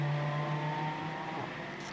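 A Ferrari race car climbing the hill at Suzuka during a Japan Cup race, a sustained, steady engine drone heard from a distance that slowly fades, with no talk.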